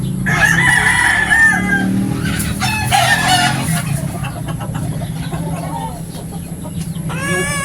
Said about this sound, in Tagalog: Manok ng Pakistan.